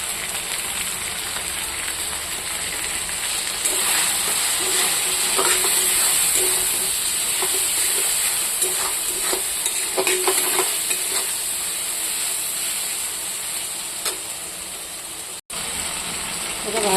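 Fish frying in a pan, a loud, continuous hiss of hot oil with scattered crackles and stirring scrapes throughout.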